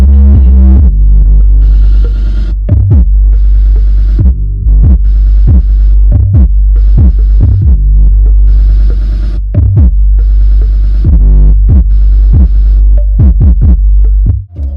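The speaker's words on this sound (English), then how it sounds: "this one sounds way better, and this subwoofer definitely is nice." An AudioControl Spike 8-inch subwoofer thumps out loud, deep bass in a steady throbbing rhythm, pulsing beats repeating over a low sustained hum, close and dominant with no voices.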